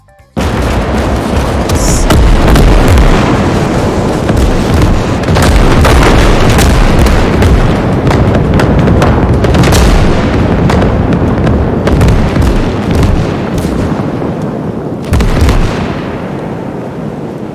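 A group of video-game artillery pieces fires together in a loud, dense barrage of overlapping booms and blasts that carries on for many seconds and ends in a final burst.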